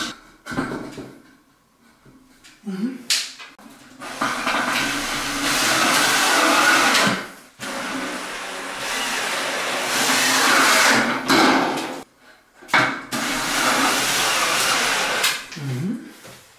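Power screwdriver driving screws into metal ceiling rails for a decorative false-ceiling box, several loud whirring bursts of a few seconds each, separated by short pauses, with no talk.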